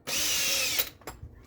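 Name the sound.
drilling out a hole with a 4mm drill bit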